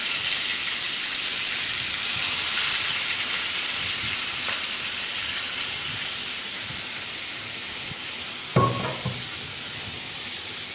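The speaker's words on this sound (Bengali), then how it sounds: "চিংড়ি মাছগুলো ভাজা ভাজা হোক" Prawns frying in hot oil in a wok produce a loud, continuous close-up hiss, broken near the end by a single sharp utensil clank against the pan.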